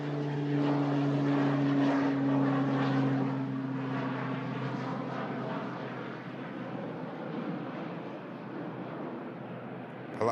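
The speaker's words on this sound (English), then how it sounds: "Pilatus is airborne already." A Pilatus propeller aircraft takes off at an airport, its steady engine drone loud and continuous with a strong low hum that gradually fades as it climbs away.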